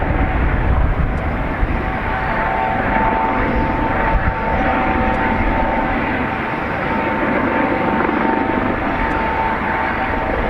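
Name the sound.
JetBlue airliner landing at Dublin Airport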